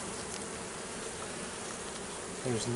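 Honey bees swarm at an open hive, giving a steady, dense, close buzzing drone throughout, with a slightly louder individual buzz rising near the end.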